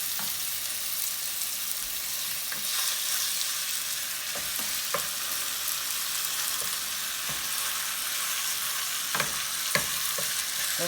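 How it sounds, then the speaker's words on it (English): Skinless chicken browns in a skillet for gumbo with a loud, steady hiss of frying, broken by occasional small pops and light stirring clicks, close up and without talk. "So I'm just going to put it in the same skillet and just brown it a little bit."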